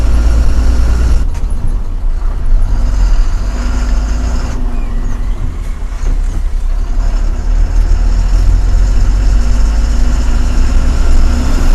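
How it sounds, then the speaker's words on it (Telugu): Loaded lorries sit idling in a traffic queue at an RTO check post, a steady, loud diesel rumble with heavy low drone throughout, a brief air-brake hiss and passing engine swells, no talk. "ఒక్క బండి వల్ల అన్ని బండ్లు ట్రాఫిక్ అవుతున్నాయి అక్కడ"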